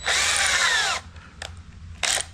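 A power drill whirs loudly for about a second, winding down, followed by a faint tap and another short burst of drilling.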